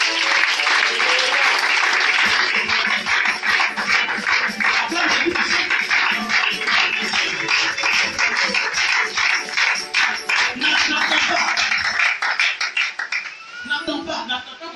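Church congregation applauding and cheering during a sermon service, dense sustained clapping with voices shouting over it, loud and close throughout before thinning near the end.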